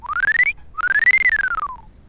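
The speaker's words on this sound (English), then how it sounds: "That's a whistle." Whistle sound effect played back in two clean, close blasts: a short rising tone, a brief gap, then a longer one that climbs and slowly slides back down, with a slightly warbling, choppy texture and no talking.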